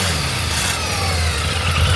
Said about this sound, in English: hear that Revolution engine